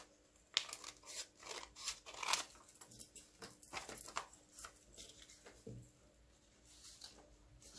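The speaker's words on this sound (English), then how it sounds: "cut this edge." Scissors snipping along the edge of a paper page for a quadruple page pocket, a quiet irregular run of short crisp cuts and crinkles, close up with no talk.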